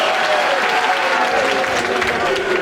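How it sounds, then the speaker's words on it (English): Football crowd at a National League match between Bath City and Dorking Wanderers, a broad, continuous roar of cheering and clapping from the stands, loud and sustained, with a commentator's voice over it. "you can hear the crowd getting behind them"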